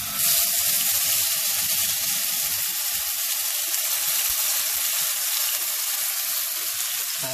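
Tomato puree goes into a hot pan for Punjabi dhaba-style chhole made without onion or garlic. It gives a steady, close sizzle that runs on its own without a break.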